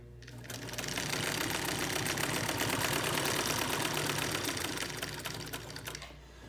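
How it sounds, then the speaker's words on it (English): A vintage Singer 99K sewing machine in a carry case stitches through layered fabric, its rapid mechanical clatter swelling in, running steady and close for several seconds, then winding down to a stop. "I want you to see it when I'm actually making the stitches"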